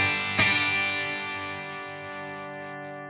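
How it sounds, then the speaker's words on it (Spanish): An electric guitar chord played through a bright overdrive pedal with heavy drive, struck once and left ringing with a buzzy, distorted sustain that slowly decays, heard alone. "tiene mucho drive, suena muy brillante"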